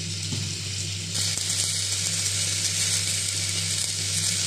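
Potato, beans and a little tomato hitting hot spiced oil tempering in a pan, a strong steady sizzle that swells louder after the first second and continues alone without talk.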